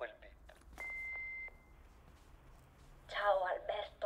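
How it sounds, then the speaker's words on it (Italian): An answering machine gives one steady electronic beep after its greeting, lasting under a second. A voice comes before it, and a new caller starts speaking soon after. "Lasciate un messaggio dopo il bip."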